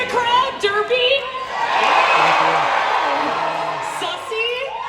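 A convention panel audience roars with cheering, whoops and shouts, a broad sustained crowd swell that peaks and then trails off.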